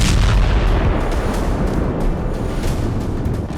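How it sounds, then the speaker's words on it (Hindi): A military airstrike brings down a building in Gaza, a loud, deep, continuous rumbling roar like a sustained blast and collapse, fading slightly over a few seconds. "आईडीएफ ने स्ट्राइक कर बिल्डिंग को जमींदोज कर दिया।"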